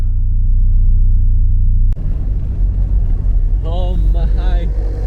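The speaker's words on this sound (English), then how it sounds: "we try to turn on his car" A car engine is cranked and fires up with a battery booster attached in freezing Lapland cold at about -30°C, giving a sudden onset and then a loud, steady low rumble that runs under talk.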